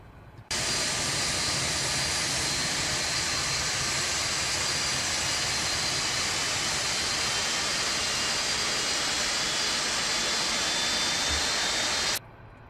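A Felis Boeing 747-200 jet engine in X-Plane 12 spools up as a loud, steady, broadband roar with a high whine, holding constant for about twelve seconds before cutting off abruptly.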